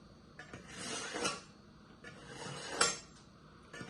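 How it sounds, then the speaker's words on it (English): A kitchen knife drawn through a knife sharpener before peeling a pineapple, giving several quick, close metallic scraping strokes in a quiet room, each a brief bright swish with short pauses between. "So you know my knife need a little sharpening."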